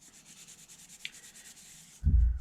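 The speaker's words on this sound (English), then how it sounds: "just give it all a good rub down" Cloth rubbing steadily over knife scales wiped down with isopropyl alcohol, a soft continuous scrubbing with one faint tick midway, ending in a sudden loud low thump.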